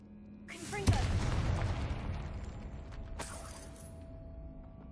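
A Confringo fire spell blast in the video game Hogwarts Legacy bursts with a sharp crack, then a rumbling roar that slowly fades, and a second bright burst follows.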